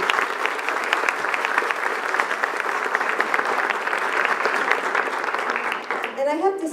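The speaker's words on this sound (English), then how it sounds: "Let's give Valeria another round of applause, please." A room of people at a gender-equality event in San Jose, Costa Rica gives sustained, dense applause for a speaker, steady clapping that fades near the end as a voice begins talking.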